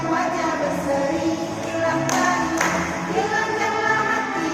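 Hands clap along to a Sunday school song in a continuous, steady stream, with a couple of sharper claps standing out over a dense background of voices and music.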